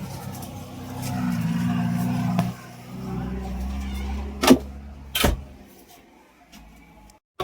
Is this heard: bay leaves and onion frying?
no